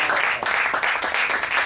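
An audience at a book presentation during the 2019 Sitges festival breaks into continuous, even applause, close and full throughout.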